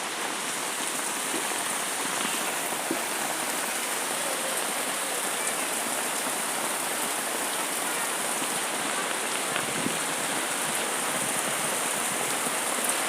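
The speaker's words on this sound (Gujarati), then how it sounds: "ને આવો વરસાદ જોઈ લો મિત્રો." Steady, dense rain pours down without pause, a continuous hiss of heavy drops drumming on surfaces close by.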